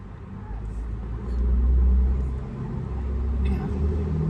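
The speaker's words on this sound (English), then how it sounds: "You can't hear over the traffic." Steady road traffic in Keller, Texas rumbles heavily and continuously, swelling louder for a couple of seconds as vehicles pass close by, with a faint high hiss above the low roar.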